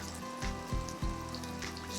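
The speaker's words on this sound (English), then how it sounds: "add your spices and stir them into the onions for about a minute" Spices frying with onions in melted fat for garbanzo bean stroganoff give a steady, close crackling sizzle, with a few soft knocks of stirring at the pan.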